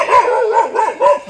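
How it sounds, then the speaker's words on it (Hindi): A dog barks repeatedly and loudly nearby in a forest, sharp yipping barks coming in quick succession without pause. "जिस हिसाब से भौंक रहा है ना, कंटिन्यूसली भौंक रहा है"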